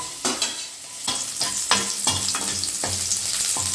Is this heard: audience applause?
no